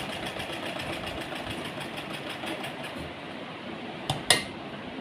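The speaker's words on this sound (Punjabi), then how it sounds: "ਨਾਲ ਨਾਲ ਆਪਾਂ ਨੇ ਇਸ ਤਰ੍ਹਾਂ ਸਿਲਾਈ ਲਗਾਉਣੀ ਹੈ" A sewing machine stitching a salwar hem runs in a steady, rapid mechanical whir for about three seconds, then stops, followed by a couple of sharp clicks.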